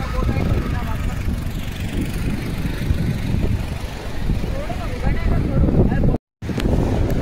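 Boat safari on the sea off Shiroda Velagar beach, a loud continuous roar of wind buffeting the microphone over an engine and water rush, close and steady with a brief dropout near the end.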